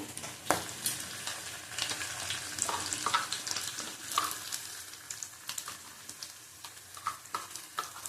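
Lotte fish frying in a pan with ginger and garlic, a steady crackling sizzle with sharp pops and stirring scrapes throughout, moderately close, no talking.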